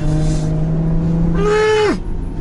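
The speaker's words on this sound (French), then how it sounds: "Mais écoutez-moi ces passages de rapport. Et le pire, le rétrogradage, écoutez." Ferrari 812 Superfast V12 engine climbs in pitch, then snaps through a quick gear shift and a sharp rising blip of a downshift, loud and close with a crisp cut-off.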